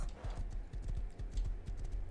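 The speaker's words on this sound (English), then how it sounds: "Another horse." Horse hooves clip-clopping in the Rust video game, a steady galloping rhythm of soft thuds, fairly near and moderately quiet, with no talk over it.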